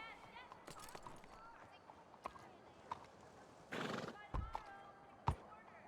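Faint, distant horse neighs and brief galloping hoof sounds in a video game under ongoing talk, with a short burst of rumbling noise midway.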